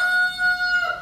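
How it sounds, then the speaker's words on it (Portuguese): A rooster crows once outside a home kitchen, a single drawn-out, fairly loud call with a bright, ringing tone that drops at the end, with no voices over it. "E o galo querendo falar mais que eu"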